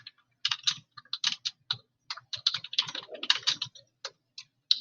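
Close, crisp typing on a computer keyboard, keystrokes coming in quick irregular bursts with short pauses between.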